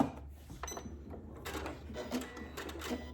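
A Janome Memory Craft MC9450 sewing machine runs its built-in quilting stitches, a quiet close mechanical whirr with quick rhythmic ticking bursts that start and stop in short runs.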